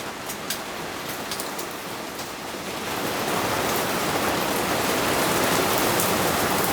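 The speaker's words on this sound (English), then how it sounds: "as you can hear, the rain is absolutely lashing down outside" Heavy rain lashes down outside a sailing yacht, a dense hiss that swells louder partway through and holds, with occasional drips tapping on top.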